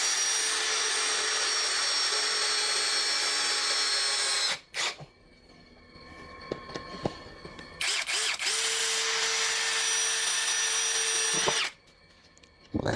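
A KEELAT 3-in-1 impact drill at variable speed 1 drives an 8 cm screw, its motor whining loud and close in two long runs broken by a quieter pause with clicks and handling knocks.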